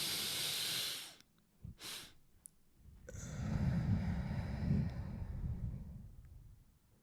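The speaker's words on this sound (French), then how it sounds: "quand on a tout respiré, on va faire encore une respiration, et après, on relâche lentement" Close, breathy inhalations followed by a long, slow, airy exhale, quiet and unhurried with a short pause between breaths.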